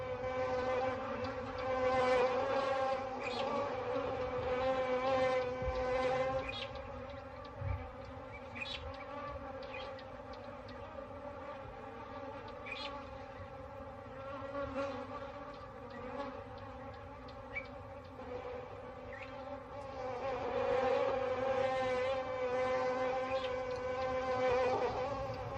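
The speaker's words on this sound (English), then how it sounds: "When the lions move on, the bees go in search of new victims." A swarm of bees hums continuously around lions in the wild, a dense layered buzz with individual insects droning nearer and farther, swelling and easing over time without any voices.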